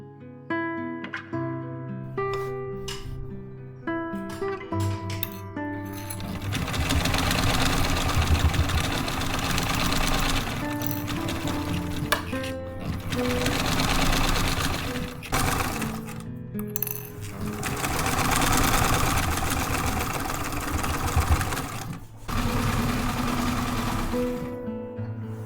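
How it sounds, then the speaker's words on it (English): A sewing machine top stitches around the edge of a half square triangle quilt, running in long steady whirring stretches broken by brief pauses, with tonal music at the start. "I did manage to top stitch the quilt around the edge"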